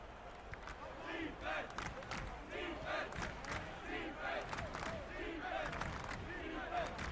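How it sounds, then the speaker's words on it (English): A sparse crowd at Miami Arena during a late fourth-quarter NBA playoff game chants "defense" in steady rhythmic waves, mid-distance and moderately loud under arena reverberation. "Sparse crowd remaining here at Miami Arena, chanting defense still."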